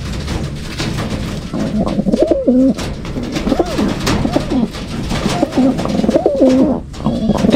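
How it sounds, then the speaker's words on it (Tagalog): Racing pigeons coo repeatedly close by in a loft, their soft rolling calls rising and falling in a steady series over a low background hum. "Ito mga kalapatids, meron akong ibon dito"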